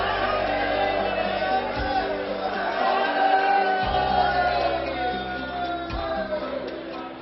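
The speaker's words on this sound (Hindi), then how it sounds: "श्रद्धालुओं की भीड़ ऐसी उमड़ी कि तिल रखने की जगह तक नहीं बची" A huge crowd of devotees at the Mahakal temple in Ujjain on New Year creates a dense, continuous roar of voices and distant shouts, with a low droning tone underneath.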